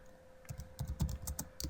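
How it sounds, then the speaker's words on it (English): Rapid, close-up typing on a computer keyboard, with irregular clusters of key clicks and no talking. "So now I have to do a bit of typing."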